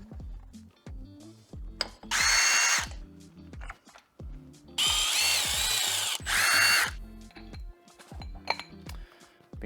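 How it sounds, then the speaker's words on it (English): A power tool whirs in several short loud bursts while removing bolts during engine work on a blown Subaru STI, with metallic clinks and rattles of parts between the bursts, close up. "Let's get these bolts out the rest of the way."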